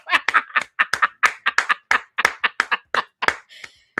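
Hands clapping in an irregular series of sharp, close claps, about a dozen in four seconds, loud and clear with a faint chuckle near the end.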